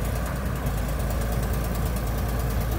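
A cheap tractor's engine idles steadily and close by, a continuous low rumbling chug with a dense rhythmic knock and no voices over it.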